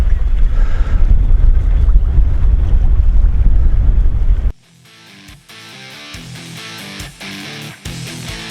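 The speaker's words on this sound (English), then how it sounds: "it's a little bit windy today as well" Gusty wind buffets the microphone outdoors while bass fishing with spinning lures, a loud low rumble for about four and a half seconds before it drops away to quieter outdoor sounds.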